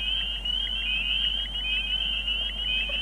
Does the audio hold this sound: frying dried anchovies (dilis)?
no